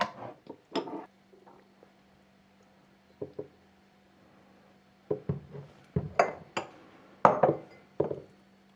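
Glass jars being filled with liver pâté bring sparse clinks and knocks of glass and utensils, some soft, some brighter, with a quiet stretch in the middle and a busier run of taps near the end.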